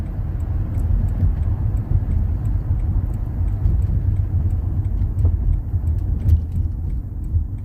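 Steady car engine and road rumble from inside a daily-driver car merging onto interstate 675, a continuous low drone with faint rattles and no talking.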